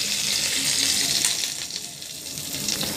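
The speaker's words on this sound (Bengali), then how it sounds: "এখন আমি তেলের মধ্যে দিয়ে দিচ্ছি 5 ফোড়ন।" Panch phoron spices hit hot oil in a pan, a loud, close, continuous sizzle and crackle that eases slightly toward the end.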